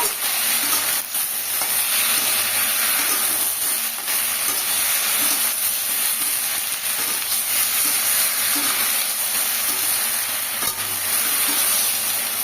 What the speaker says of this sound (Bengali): এই বরবটি আর আলু টুকরো করে কেটে রাখা একবার দিয়ে দিলাম, দিয়ে এটাকে ভালো করে ভেজে নেব